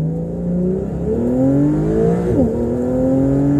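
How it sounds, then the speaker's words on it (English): A 2017 Porsche 911 Targa 4 accelerating at full throttle in regular mode, the engine note climbing loudly and steadily through the gears with a brief dip at a shift, heard from inside the car. "I'm just going to hit the gas pedal and go."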